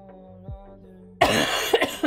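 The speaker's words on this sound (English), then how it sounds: "I hope this cough goes away soon." A woman gives a single harsh cough close to the microphone, followed by a couple of smaller throaty bursts after a quiet stretch with faint tones.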